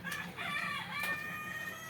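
Fayoumi chickens in a poultry shed give steady clucking and short calls, with one brief crow-like cry rising above a continuous low hum from the shed.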